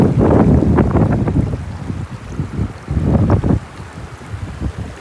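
Gusty outdoor wind buffets the microphone by a woodland river and brook, rising and falling in loud rumbling bursts that swamp the fainter rush of flowing water, with no talking.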